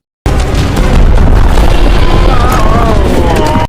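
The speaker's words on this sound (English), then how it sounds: "You can clearly hear a booming thud just when she punched that ceiling and some rubble also falling down" Loud booming thud as Mommy Long Legs punches through a ceiling in a video game, a sustained heavy rumble with rubble clattering down, filling the whole stretch after a brief silence.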